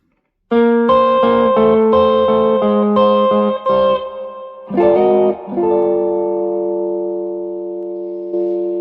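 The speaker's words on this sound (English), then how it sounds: "show you 3 turnarounds that you can start using" An electric guitar plays a short blues turnaround phrase with sustained, slightly effected notes, ending on a ringing held chord.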